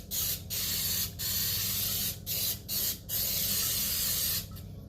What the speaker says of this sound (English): And I'm gonna spray the top as well.